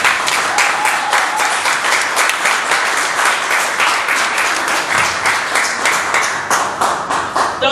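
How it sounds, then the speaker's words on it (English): Sustained audience applause for a school's master of discipline at a president's speech event, with a thick, even wash of many hands clapping together at a loud, constant level from start to finish, no talking. "Please let's give him a round of applause."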